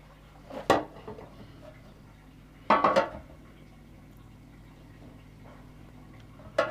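A chocolate brownie is lifted out of its pan with two clattering bursts of metal on metal and a faint clink at the very end. The room is otherwise quiet.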